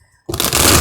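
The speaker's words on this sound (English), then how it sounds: "Okay, and then I'll shuffle some more." Tarot cards shuffled close by, a burst of dense papery riffling that starts abruptly after a short quiet gap and stays loud and continuous to the end.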